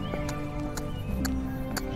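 Hooves of a Pura Raza Española horse stepping in the elevated passage gait during classical dressage at a stud farm, a few regular sharp footfalls over a steady background hum, with no talk.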